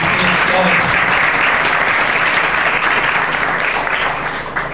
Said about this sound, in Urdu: تالیاں بجائے مقدسہ مریم کے لیے